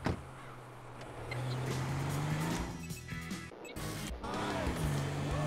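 A car drives in GTA 5, its engine droning and rising in pitch as it accelerates, with a couple of clunks and knocks partway through; no voices are heard.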